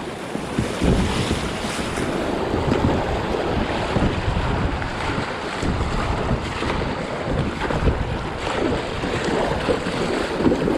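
Water rushes and churns loudly and continuously as a Crescent CK1 Venture kayak pushes through a river rapid, with wind buffeting close by.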